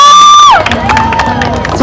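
Crowd at a school carnival for SMAN 1 Mejayan cheering and clapping. It begins with a sustained tonal note, then breaks into loud, close, continuous cheers and shouts mixed with children's voices.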